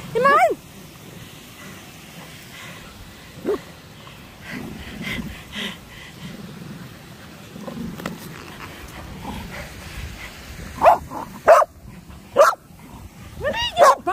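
A dog barks in short, sharp bursts, a single yap early and a cluster of several near the end, over a background of rushing water and outdoor murmur.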